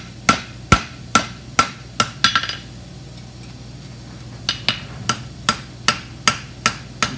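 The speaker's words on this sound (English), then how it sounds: "just kind of coming in here and drawing and scooping with my hammer." Ringing hammer blows on hot metal being forged come in a steady run, then a quick flurry, a pause, and another even series of loud, sharp strikes.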